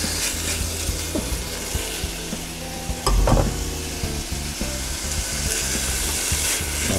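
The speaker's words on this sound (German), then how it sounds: "Und dann braten wir das Hühnchen jetzt mal an." Chicken pieces sizzle and fry in a hot pan, a steady crackling hiss with a louder burst midway as the meat is stirred or moved, close and without speech.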